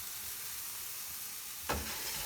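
Stuffed mushrooms browning in a hot pan on a stove give off a steady, even sizzle, with one brief louder scrape or stir near the end and no voices.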